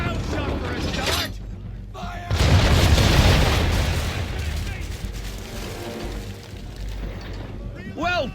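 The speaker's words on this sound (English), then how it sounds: "Bring around broadside, and when all guns are on target, call fire." Broadside cannon fire from a sailing warship in Assassin's Creed III: a deep, booming blast swells into a long rumbling roll, with spoken voices before and after it.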